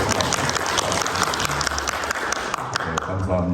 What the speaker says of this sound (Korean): 박수로 여러분 다